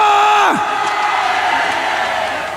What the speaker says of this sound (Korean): 우리의 이 함성 소리가 청와대에 올라간 것을 믿습니다